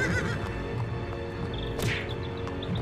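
Cartoon horses gone mad let out a loud, close whinny amid chaotic farmyard noise, with a sharp high burst in the middle and steady busy sound around it.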